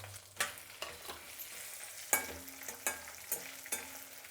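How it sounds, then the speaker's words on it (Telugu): Chillies stir-fry in a hot pan with a steady low sizzle, while a spoon scrapes and clatters against the metal in repeated strokes, close and without speech. "మిరపకాయలు వేసినాక ఇలా కలుపుతూ ఉండాలండి, అప్పుడే మనకు అన్నీ బాగా వేగుతుంది"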